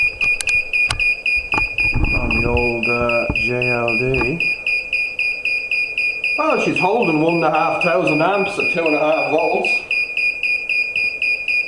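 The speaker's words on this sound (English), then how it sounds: "Sorry about the beeping, by the way." A rapid, steady electronic beeping from a water-heating device's alarm repeats throughout, shrill and insistent, while someone talks over it.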